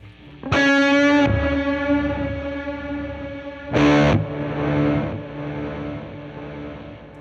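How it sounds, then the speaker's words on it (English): Two bursts of distorted guitar through a Walrus Audio Melee pedal, each swelling into a washy reversed reverb and trailing off into lingering echo repeats, the second chord shorter than the first. "So now you're getting a reverse reverb with some delay trails introduced"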